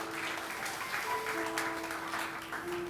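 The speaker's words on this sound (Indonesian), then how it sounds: "Yang setuju tepuk tangan bagi Allah kita" An Indonesian church congregation at an Ascension of Jesus Christ service gives a soft, steady round of applause, with sustained musical tones held underneath the clapping throughout.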